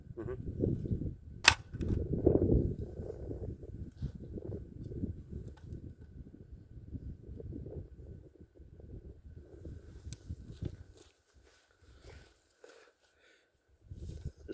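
AR-15 rifle with a twisted barrel firing, one sharp loud crack early on, then faint scattered pops and rustling over low talk and background murmur.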